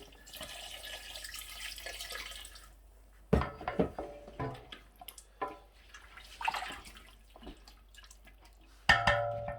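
Water is poured into a cooking pot of beef paya (beef trotters), giving a soft, steady splashing stream at first, followed by quieter scattered drips, knocks and handling sounds.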